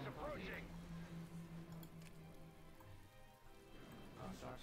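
Rain falls in the Star Wars strategy game Thrawn's Revenge: Empire of the Hand, a steady patter of drops spread across the whole clip, with faint game tones and effects running beneath it.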